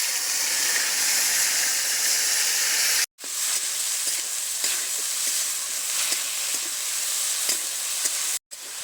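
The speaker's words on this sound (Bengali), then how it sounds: "ডালটা ভেজে নেব।" Red lentils frying in white oil in a wok make a loud, continuous hissing sizzle with faint stirring clicks, broken twice by brief cuts to silence.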